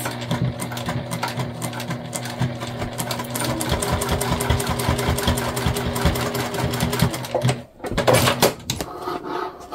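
A sewing machine runs in rapid, even bursts of stitching along a thick butterfly seam joining dish drying mats with finished edges, close and loud, pausing near the end before a brief restart.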